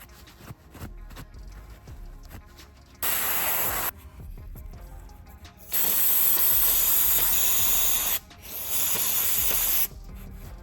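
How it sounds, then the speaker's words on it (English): Ratchet loosening the drain plug on a 2017 Subaru manual transmission differential, with rapid close clicking broken by long loud hissing, spray-like stretches, and no talk. "Then remove the drain plug."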